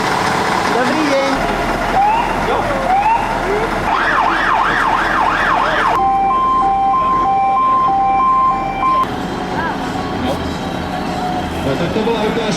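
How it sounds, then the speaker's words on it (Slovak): Fire engine siren demonstrated at an outdoor community sports day, loud and close, cycling through wailing sweeps, fast yelps and a steady two-tone horn, over a rumbling engine with people talking in the background. "tak to bola ukážka, ako funguje siréna hasická"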